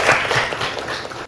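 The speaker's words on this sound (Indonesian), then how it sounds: "tepuk tangan" Applause from a classroom audience at a teacher performance assessment session, a brief burst of dense clapping lasting about a second, steady and moderately loud.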